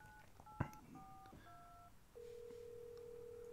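A phone dials in the game Resident Evil 7, with a quick run of keypad tones and a click, then a steady, faint dial tone.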